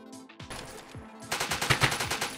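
Video game weapon gunfire in a Rainbow Six 1v1 match: a few scattered shots, then a rapid automatic burst of evenly spaced cracks, moderately loud, with no talking.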